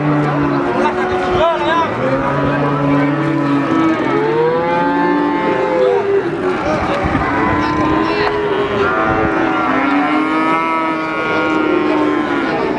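Calves moo again and again at a busy cattle market selling young breeding cattle, several overlapping calls close and loud over a constant crowd murmur, with people talking throughout.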